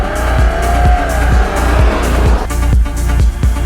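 Audi Q7 with the updated 3-litre V6 TDI diesel driving hard on a road, loud steady engine drone with a repeating rhythmic thump and brief tyre squeal, close and continuous with no talking.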